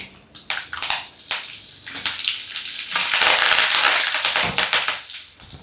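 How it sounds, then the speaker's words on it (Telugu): Dried red chillies and curry leaves crackle and sizzle loudly in hot oil for an upma tempering, a dense spitting fry with sharp pops throughout and no voices. "పోపు మనకి ఎంత ఎర్రగా వేగితే అంత రుచిగా ఉంటుందండి."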